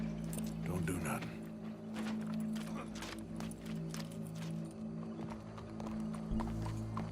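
Horse hooves clip-clop in Red Dead Redemption 2, a string of quick, fairly close hoofbeats over a low hum, with voices talking partway through.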